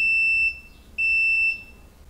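A multimeter's continuity beeper sounds as the probes touch transistor legs, giving a loud, pure high tone in two sustained bursts with a short quiet break between them.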